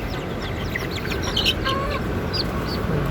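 A bantam chick peeps in soft, high chirps, several short calls scattered over a steady low background rumble, with an adult chicken clucking nearby.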